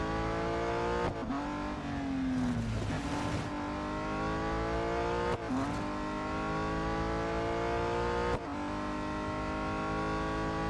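In the Real Racing 3 video game, a race car engine roars loudly and continuously on a track with a chicane. It climbs in pitch through several sharp gear shifts and dips briefly as the car slows for braking.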